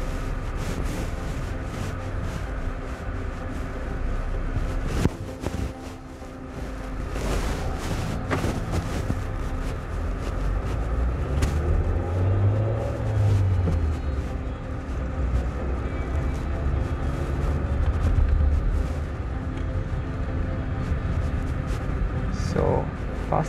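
Mahindra XUV 700 petrol manual SUV pulling away in first gear, a steady engine and road rumble with a low engine note rising and falling under continuous talking.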